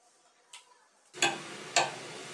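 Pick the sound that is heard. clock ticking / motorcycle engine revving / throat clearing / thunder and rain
clock ticking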